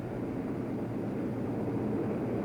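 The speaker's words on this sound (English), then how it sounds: "Here comes the Luftwaffe. In dozens of flights, hundreds of planes" Dozens of Luftwaffe bombers and fighter planes crossing the English Channel during the Battle of Britain, a steady, dense engine drone that holds at one level throughout, with no voices.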